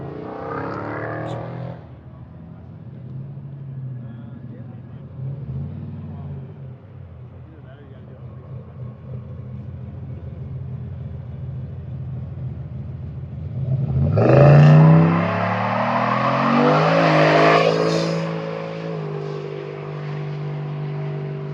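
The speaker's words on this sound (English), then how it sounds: "a car pulling a trailer in a big, gnarly, rolling burnout" A hot rod pulling a trailer at a drag week route stop does a rolling burnout, its engine swelling from a low rumble into a loud, roaring rev with tire squeal near the end, while people talk nearby.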